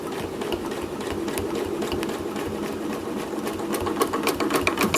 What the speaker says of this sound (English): I'm just going to start stitching here